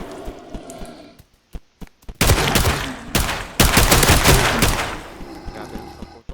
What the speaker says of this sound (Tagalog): Grabe lang sa putok yun.